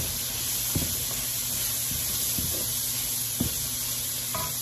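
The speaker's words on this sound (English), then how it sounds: "I'm going to cook this until my onions are translucent." Onions and garlic frying in a pan on the stove, giving a steady close sizzle and hiss with a few soft stirring knocks, no voices.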